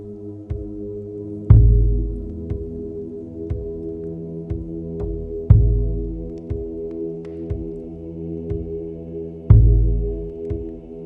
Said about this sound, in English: As your heart rate decreases, the sounds you hear will become quieter and slower